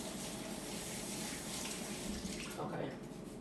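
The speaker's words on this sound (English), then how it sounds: "Let me wash my hands." Tap water runs steadily into a kitchen sink while hands are washed under the stream during rum cake baking, a close, continuous splashing hiss that shifts slightly near the end.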